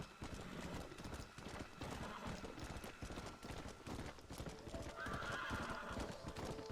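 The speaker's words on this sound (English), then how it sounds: "this horse ride is actually decently long" Horse hooves clip-clop at a steady gallop in Red Dead Redemption: Undead Nightmare, continuous and busy, with a brief whinny partway through and faint game ambience underneath.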